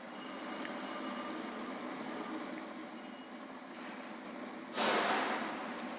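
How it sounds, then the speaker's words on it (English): A DC motor running steadily at 840 RPM on a vibration test rig, giving a continuous mechanical whir with a brief louder burst of broadband noise near the end. "For the fifth experiment, we operate the DC motor at 840 RPM"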